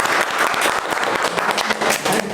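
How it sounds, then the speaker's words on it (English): An audience at a group debate session applauds its team with loud, sustained clapping from many hands close by and a faint crowd murmur mixed in. "And of course you guys please clap for your team."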